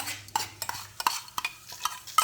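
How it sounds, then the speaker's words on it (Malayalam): Hot mustard seed tempering poured into tomato chutney gives a soft sizzle with light stirring clicks and spoon taps on a pan, quiet and close, no talk. "ഞാൻ ഇതിലേക്ക് ടൊമാറ്റോയിലേക്ക് ഒഴിക്കുകയാണ്."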